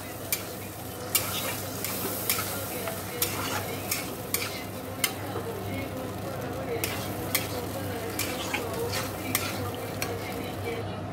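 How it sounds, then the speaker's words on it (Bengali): Gravy with red chilli and soy sauce bubbles steadily in a pan, making a constant busy simmering hiss, while a utensil scrapes and clicks against the pan at irregular moments. "দেখো, ঝোলটা ফুটতে শুরু করেছে"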